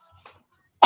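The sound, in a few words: cough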